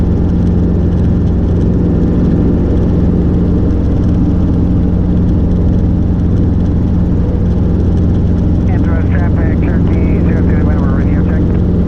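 A Robinson R22 helicopter in flight: a steady, loud engine drone and rotor hum fill the whole stretch, with no pause; a voice comes through faintly near the end.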